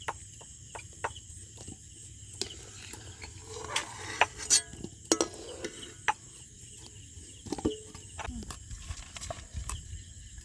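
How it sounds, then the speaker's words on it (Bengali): Knife chopping chilli on a board for village-style potato chops, sharp close taps coming in irregular bursts while someone talks over them. "আমি লঙ্কাটা কুচাচ্ছি"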